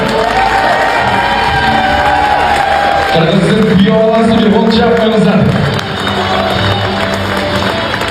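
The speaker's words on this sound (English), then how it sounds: "It's applause for you." A crowd cheers and applauds for a Ghanaian footballer in Kyrgyzstan, a loud sustained roar of many voices with shouts and clapping rising in the middle, while a voice speaks over it.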